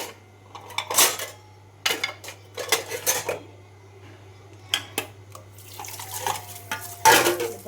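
Dishes and pots clatter and clink in irregular bursts while being washed, metal vessels knocking together close by, with quiet gaps between the clashes.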